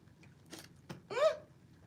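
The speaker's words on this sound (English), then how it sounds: "I can't stop hiccuping, you guys." A woman's hiccup, a single short voiced catch following two brief clicks, close and clear with no talk over it.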